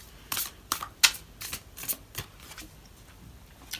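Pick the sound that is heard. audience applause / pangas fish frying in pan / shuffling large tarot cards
shuffling large tarot cards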